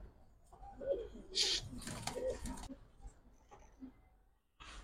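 Pigeons coo in a loft of high-quality Giribaj and colored fancy breeds, low rounded calls repeating twice near the start and middle, with a brief hissing burst and a voice talking over parts of it.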